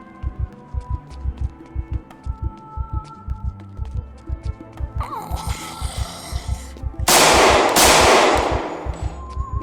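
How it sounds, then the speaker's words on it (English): Rapid gunfire from the video game Project Zomboid, a steady train of loud, evenly spaced shots rattling for several seconds before a burst of harsher, louder noise swells near the end; no one talks. "Alright, I'm done shooting bullets."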